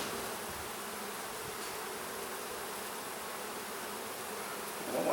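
Honey bees buzz around an open hive while frames are inspected, a dense, steady, soft hum that fills the whole stretch without pause.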